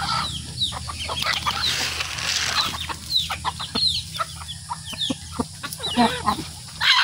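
Chickens cluck in quick irregular bursts close by, sharp calls rising and falling against a quiet farmyard background.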